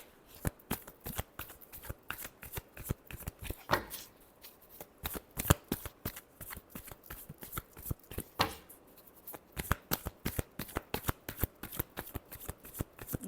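Tarot cards shuffled by hand in rapid riffling bursts, dense repeated snaps and flutters with brief pauses between rounds, close and clear with no talking.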